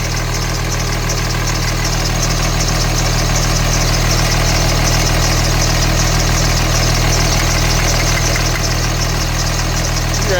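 A truck's rebuilt diesel engine fitted with DDP injectors idles loud and close, a steady low rumble with a fast injector chatter running unbroken throughout, no voices.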